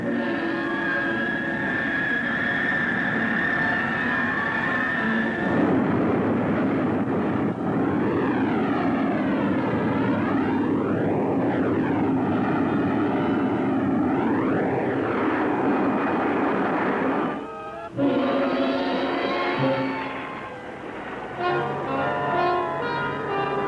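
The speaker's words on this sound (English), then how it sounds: "Here comes the hovercraft." A hovercraft approaches with a loud, steady engine and propeller roar, its whine sweeping up and down in pitch as it draws near, then settling, with no talking.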